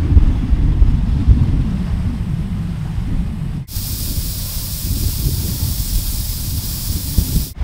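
Air hissing steadily from a 4x4 tyre through Staun tyre deflators before sand driving in WA, a loud continuous rush that shifts abruptly in tone partway through, with no talking.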